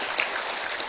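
Congregation clapping together at a church service, a dense, steady patter of many hands throughout, close and fairly loud with no voices over it.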